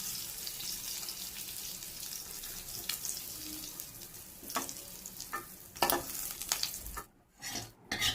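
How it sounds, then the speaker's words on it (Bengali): Prawns frying in well-heated oil, a steady sizzle with stirring scrapes and clatters, then running water and a few louder knocks toward the end; no speech. "তারপরে এর মধ্যে চিংড়ি মাছগুলোকে অ্যাড করে দিয়ে চিংড়ি মাছগুলোকে ভেজে নিতে হবে।"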